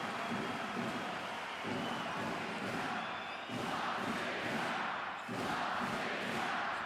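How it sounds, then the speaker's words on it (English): The arena crowd roars and chants during a tight FIBA Basketball World Cup 2019 European qualifier between Latvia and Spain, surging in waves with rhythmic thumps, loud and continuous from a distance. "Crowd making themselves heard now."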